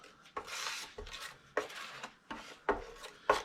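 A small squeegee spreads self-leveling coating across a vanity surface, making close, repeated rasping scrapes in strokes about every half second, with no talking.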